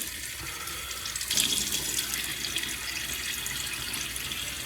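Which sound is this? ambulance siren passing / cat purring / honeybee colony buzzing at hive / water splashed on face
water splashed on face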